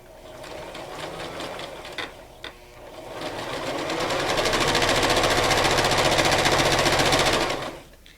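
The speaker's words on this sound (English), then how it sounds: "I'm going to go ahead and just use my zigzag stitch since I have my sewing machine set up" A sewing machine runs close by in rapid zigzag stitching, pausing briefly before picking up into a longer steady burst that stops abruptly.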